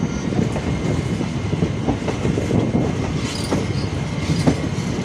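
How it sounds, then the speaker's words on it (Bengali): The Netaji Express from Howrah to Kalka rolls into Mughal Sarai (Deen Dayal Upadhyaya) station, a steady close rumble of carriages with faint rhythmic wheel clacks and occasional squeals throughout. "ট্রেন এখন ঢুকছে"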